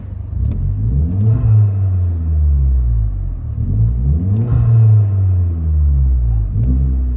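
Deep, steady exhaust drone of a 2010 Hyundai Genesis 2.0L turbo with dual exhaust and a Vibrant bottle resonator, heard from inside the cabin, rising and falling in loud revving swells with no talking.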